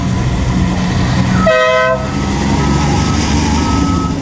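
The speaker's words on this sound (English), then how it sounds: "Here comes the first Porsche." A Porsche arriving at the Pebble Beach Concours d'Elegance, 2008: a steady engine rumble holds throughout, broken midway by a short, bright, horn-like tonal blast that cuts off after about half a second.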